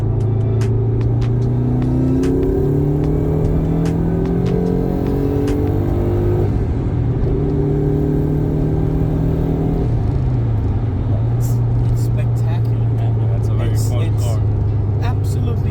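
A Subaru Impreza WRX engine pulls hard on a highway, revving up through gears with rising pitch and brief drops at shifts, heard from inside the cabin under steady road rumble while someone talks.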